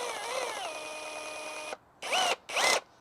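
A Ridgid brushless reciprocating saw runs in orbital mode with a steady high whine, then cuts off and is triggered twice more in short bursts.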